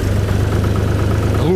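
A Chinese tractor's diesel engine runs at a loud, steady idle close by, a constant low rumble with a voice briefly audible over it.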